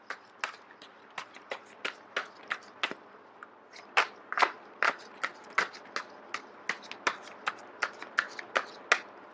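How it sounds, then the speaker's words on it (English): Sharp, crisp card-shuffling clicks repeat in a quick, uneven rhythm, close and fairly quiet, with brief pauses between bursts and no talking. "So once again, I am going to shuffle until the first card drops out."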